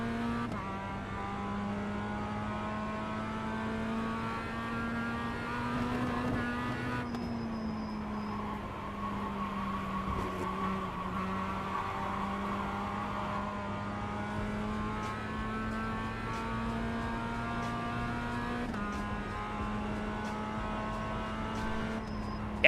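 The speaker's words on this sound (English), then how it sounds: "if I blip the throttle on a downshift in the Mazda, it is going, oh, see, it's doing that" A Mazda engine hums steadily at a fairly constant pitch, with slight pitch changes as it rev-matches on downshifts. The engine sounds close and moderately loud, with no talking over it.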